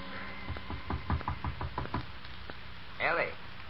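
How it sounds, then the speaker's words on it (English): Someone knocks on a wooden door in a 1939 radio drama. About a dozen firm knocks come in quick, uneven groups close to the listener. A short, unclear voice follows near the end. "Her father knocks at the door."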